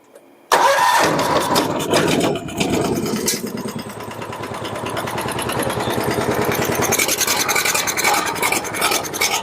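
A John Deere 300 lawn tractor engine cranks after a brief quiet start, catches with a loud burst, then settles into a steady, close, rhythmic running chug that carries on to the end.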